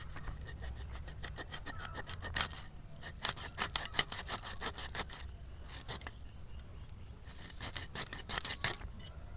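A thick kalta fish being cut into pieces, with irregular scraping, crunching strokes arriving in bursts over a faint background, fairly quiet and close, with no speech.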